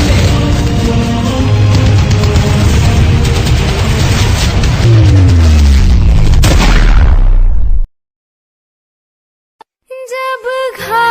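Loud, continuous barrage of gunfire and booming explosions from a school patriotic play, a dense roar lasting several seconds before cutting abruptly to silence, then a singing voice enters near the end.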